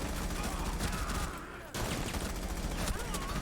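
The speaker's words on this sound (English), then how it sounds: "we're engaging in some gunfights" Rapid bursts of gunfire crackle through a first-person shooter gunfight, running almost without a break apart from a short lull in the middle, with dense overlapping shots close by.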